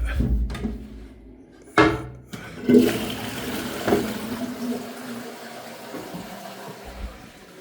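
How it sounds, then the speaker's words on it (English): A household toilet in a large house's bathroom flushes at close range, with a few clunks of the handle before a loud rushing gush of water that settles into a steady refill hiss. "flush the toilet"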